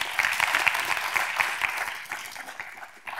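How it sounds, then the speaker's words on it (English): An audience at a university Board of Governors meeting breaks into applause, a brief burst of many hands clapping at moderate distance that holds steady and starts to thin toward the end. "a word of applause is required as well"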